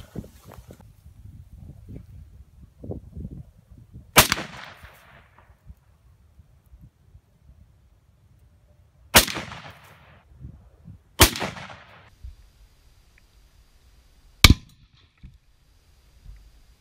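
A .30-06 rifle firing armor-piercing rounds at a steel target outdoors, about 75 yards away: four sharp, loud shots spaced several seconds apart, each with a short ringing decay, over quiet background rustle.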